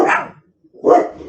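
A pit bull barks twice, close by, with a short silent gap between the loud, rough barks.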